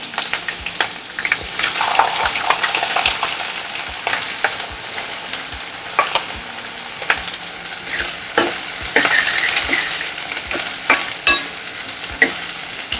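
Onion and green chili dropped into hot oil with cumin for a dal dish, sizzling loudly and close, with repeated scrapes and clicks of a spoon stirring the pan.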